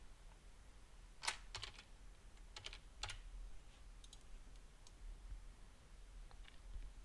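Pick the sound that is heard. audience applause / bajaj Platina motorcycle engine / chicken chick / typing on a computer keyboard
typing on a computer keyboard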